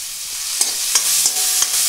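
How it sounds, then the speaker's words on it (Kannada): Chopped onions fry in a pan, a close hiss of sizzling broken by several quick stirring scrapes from a spoon or spatula in a loose rhythm. "ಇದು ಈರುಳ್ಳಿಯಲ್ಲಿ ಇರೋದು ಹಸಿ ವಾಸನೆ ಹೋಗೋವರೆಗೂ ನಾವು ಹುರಿತಾ ಇರಬೇಕು ಇದನ್ನ"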